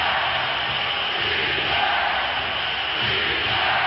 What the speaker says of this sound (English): The crowd chanting defense.